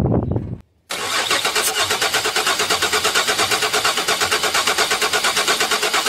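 Car engine with ignition coils disconnected and fuel disabled cranking during a compression test, a brief burst, a short silence, then a long steady rhythmic churning of the starter, loud and close with no talk.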